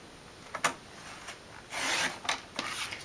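A Fiskars mat cutter slicing paper along a line: a few short rasping strokes, then a longer, louder scraping pass near the end, close and dry with no talking.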